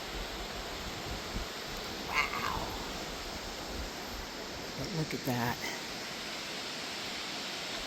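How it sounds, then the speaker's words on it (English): Fish Creek, running high after massive rainfall, gives a constant broad rushing of water at moderate level, with a person briefly exclaiming over it. "Fish Creek is running."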